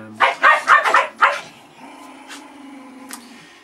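A dog barks five times in quick succession, loud and close, then lets out a thin, drawn-out whine that trails off over the next couple of seconds.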